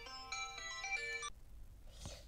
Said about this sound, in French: j'avais oublié de couper la sonnerie du portable